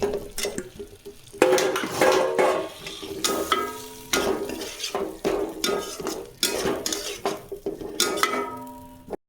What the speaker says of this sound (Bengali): যখন তেল ছাড়তে লাগবে তখন এর মধ্যে আমি সেদ্ধ করা মটরটা দিয়ে দেব। কিছুটা নাড়াচাড়া করার পর পনিরটাও সঙ্গে সঙ্গে আমি অ্যাড করে দেব।